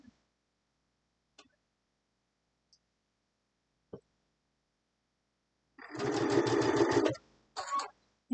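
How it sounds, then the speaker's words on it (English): A Gemini sewing machine stitches a log cabin quilt block piece: after a few faint clicks, a steady mechanical whirring run of about a second and a half, then a short second burst, close and moderately loud. "So let's just sew that piece."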